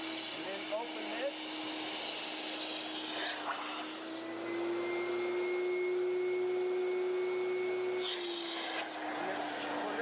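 A Rotovac Ranger extraction unit runs with its pump and vacuum motor together, a continuous steady whine with a sustained tone that rises slightly midway, accompanied by occasional brief airy rushes and handling noises.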